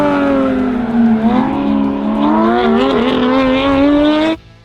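A Porsche GT3 RS engine howls loud and close as the car races through a track corner, its pitch dipping then climbing steadily before cutting off abruptly.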